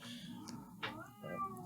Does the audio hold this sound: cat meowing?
yes